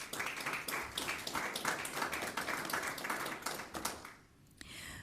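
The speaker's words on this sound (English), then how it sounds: "So another round of applause for Austin High School." An audience applauds at a school board of trustees meeting to honor Austin High School, steady clapping from a crowd that holds for about four seconds before fading out, followed by a brief softer tail.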